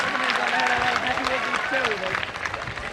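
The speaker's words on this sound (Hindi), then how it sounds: "तालियां बजाकर इन कलाकारों का उत्साह बढ़ाएं" Audience clapping for performers at a school Republic Day drama, steady applause across the whole stretch with voices mixed in.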